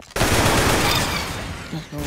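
Rapid automatic gunfire from the Roblox shooter game Arsenal, a dense continuous burst of loud shots filling most of two seconds, with a brief pause and a couple of tonal game effects near the end.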